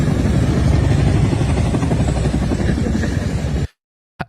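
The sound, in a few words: helicopters flying close overhead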